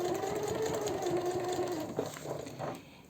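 Sewing machine stitching a denim sports bag, a faint steady motor whir with a running stitching hum that tapers off near the end.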